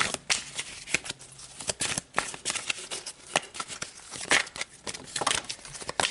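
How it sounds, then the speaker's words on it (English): Tarot cards shuffled and drawn from a deck by hand, a quick run of crisp flicking and riffling snaps with brief pauses between bursts, close and fairly loud with no talk. "Let's pull more cards"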